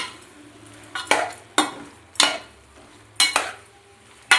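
Tomatoes for tomato thokku cook in a pan. A utensil scrapes and clinks against the pan in several sharp, separate strokes over a quiet low sizzle, with nobody speaking.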